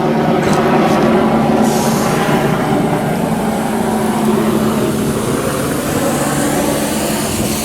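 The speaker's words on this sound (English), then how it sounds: "It's blowing out. That's blowing out." Compressed air forces water out of an inground sprinkler zone during winterizing, making a loud, continuous roaring hiss with sputtering spray that holds steady for several seconds.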